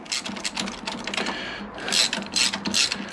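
Motorcycle handlebar riser bolts on a 1998 Kawasaki ZX9R C1 are tightened with a ratchet, giving close, rapid clicking runs in short bursts with a brief pause between them.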